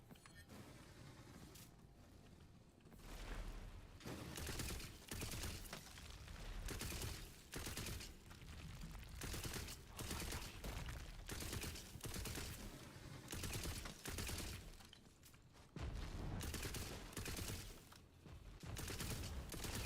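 Rapid sustained gunfire in the video game Tiny Tina's Wonderlands, dense bursts of shots nearly continuous for the whole stretch, loud and close with brief pauses between volleys.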